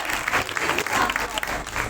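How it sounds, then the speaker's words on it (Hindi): Audience at a church convention applauding, brisk dense clapping heard throughout a brief stretch, with faint crowd voices mixed in. "जोरदार तालियां बजाएं।"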